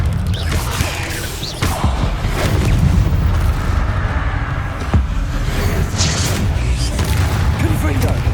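Fire-spell explosions in the Hogwarts Legacy video game, heavy booms and crackling blasts in repeated bursts over a dense, loud battle din, with voices mixed in.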